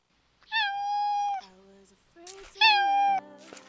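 An Alexa smart speaker skill plays two cat meows, each a long, steady, tonal call separated by a short gap, with some quieter sounds in between.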